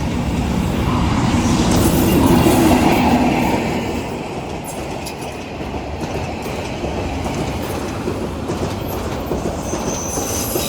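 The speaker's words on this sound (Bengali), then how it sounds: "অলরেডি আমার পিছনে ট্রেন দেখা যাচ্ছে" A train runs past on a railway line, its wheels rattling and clacking loudly at first, then easing to a steady, more distant rumble with a faint squeal near the end.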